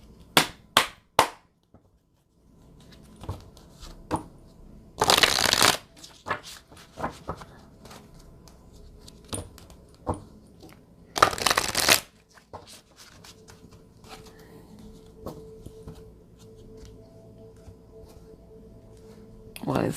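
Wisdom of Avalon oracle cards being shuffled by hand, with quick riffle bursts, soft slaps and taps scattered across a quiet room, two longer louder shuffling runs standing out.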